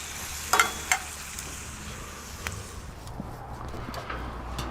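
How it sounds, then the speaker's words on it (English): Food searing on a high-heat stainless Monument Mesa 400 four-burner gas grill, a steady faint sizzle and hiss running throughout with a few sharp clicks near the start. "Gonna just let them start to sear off here."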